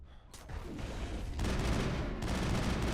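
Gunfire in the Mass Effect video game forms a dense, continuous barrage of shots with heavy low rumble. It grows louder and fuller partway through and keeps going to the end.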